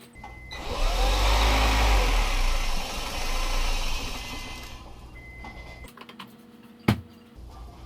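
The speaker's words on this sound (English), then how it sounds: "then we start the car and let it run until it dies" A Honda Civic Hybrid engine with its fuel relay pulled runs loudly and steadily for a few seconds, then stalls and cuts out. A few faint clicks and a sharp knock follow in the quiet.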